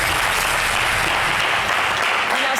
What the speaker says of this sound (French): Là, on applaudit pour les enfants.